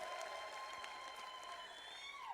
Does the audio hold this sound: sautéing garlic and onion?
no